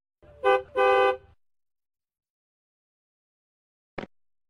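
Two honks from a cartoon taxi's car horn, a short toot followed by a longer blast, loud and close, then silence broken by a brief click.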